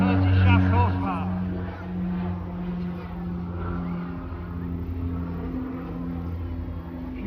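Twin Garrett T-76 turboprop engines, 1,430 shaft horsepower each, drone steadily on an aircraft at an airshow, a loud sustained tonal roar with a brief swell near the start.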